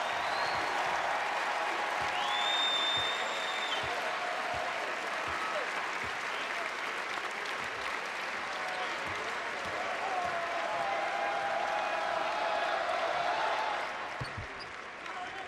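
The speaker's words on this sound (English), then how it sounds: "To the round of applause, a grad student" A basketball arena crowd applauds during a UConn men's basketball game against UCF as a player is substituted out; broad, steady clapping carries on for the whole stretch, with commentators talking over it at times and tapering slightly at the end.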